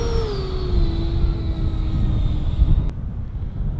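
An FMS BAE Hawk 80mm EDF model jet in Red Arrows livery whines steadily with a high, slowly falling tone over broadband wind rumble, audible in a strong crosswind before its maiden flight.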